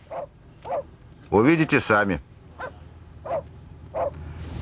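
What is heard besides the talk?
dog barking, excited by the bustle of people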